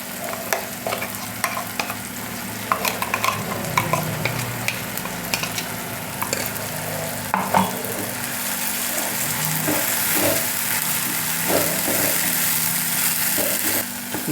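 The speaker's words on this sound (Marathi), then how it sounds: "आता आपण यामध्ये वाटलेला मसाला टाकून घेऊ." Ground masala frying in a pan with tomatoes for a capsicum bhaji, stirred repeatedly: a continuous sizzle broken by scraping, clattering strokes of the spoon throughout.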